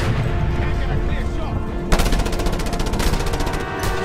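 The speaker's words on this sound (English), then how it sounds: "People are shooting at me. I should probably shoot back." Rapid bursts of video game gunfire crackle through the second half, loud and dense, with a sparser muffled rumble of action beforehand.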